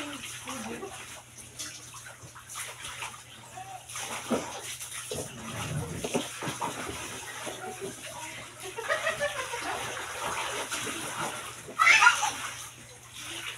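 Hot water pours from a tap during bathing, with splashing and an uneven flow that surges near the end. Voices and brief whimpering sounds come in at times.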